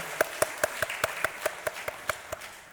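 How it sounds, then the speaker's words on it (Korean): A church congregation claps together in a steady unison beat, about a dozen evenly spaced crisp claps in a reverberant hall, moderately loud with no talk over them. "박수 한번 쳐주겠습니다."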